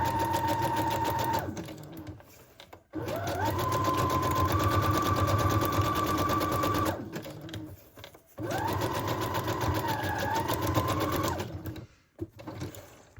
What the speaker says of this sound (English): I'm gonna sew just this by itself all the way around the edges, just as if I had sewn it on to the cover.